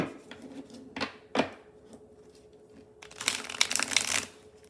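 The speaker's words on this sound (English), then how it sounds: "let's give it a shuffle and see what happens" A tarot card deck is shuffled close up: a few separate crisp riffles and taps, then a longer burst of rapid, dense card flutter near the end, quiet room otherwise.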